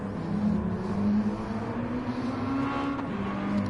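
Race cars in a racing video game at Laguna Seca produce a steady engine drone with a sustained pitch that slowly climbs, heard alone and at moderate level without any voices.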